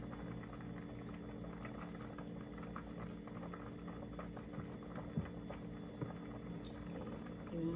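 Food with spiced water bubbling in a pot for an African dish, a quiet, steady simmer of small pops and gurgles running continuously, with a few slightly sharper bubbles near the end.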